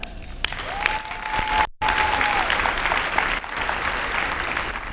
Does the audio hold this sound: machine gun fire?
no